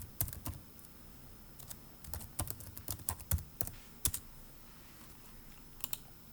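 Someone typing on a computer keyboard nearby, quick irregular clusters of crisp clicks and key taps with brief pauses, fairly faint and alone.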